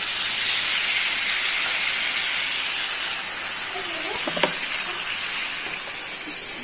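Water poured into a pan of pointed gourd and potatoes frying in oil, a loud sustained steamy hiss and sizzle close by that eases slightly over several seconds, with a faint clink partway through.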